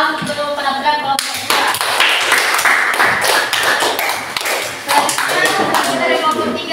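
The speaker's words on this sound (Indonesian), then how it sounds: "Aplaus untuk penampilan kelompok" A group of people claps for a group's presentation. The clapping is loud and close, with dense, uneven hand claps that swell and fade over several seconds.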